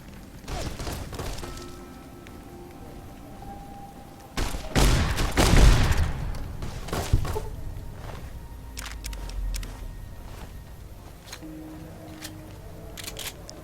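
Gunfire in Fallout: New Vegas, set in the Mojave, comes as scattered shots with a dense burst of rapid fire in the middle, followed by fainter sporadic pops and footsteps.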